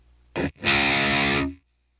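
Electric guitar through a Jekyll & Hyde overdrive/distortion pedal: a short distorted stab, a brief gap, then a loud sustained distorted chord that rings for about a second and cuts off abruptly into silence.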